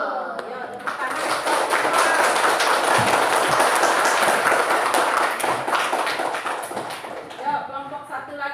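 Students in a classroom clapping their hands together, a loud burst of group applause that swells and holds for several seconds before fading, with voices mixed in.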